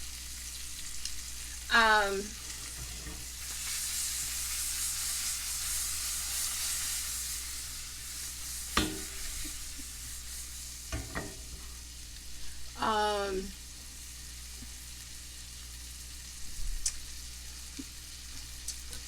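Shrimp for a shrimp and broccoli pasta fry in a pan with a steady, close sizzling hiss throughout, broken by a few brief sharper squeaks and pops.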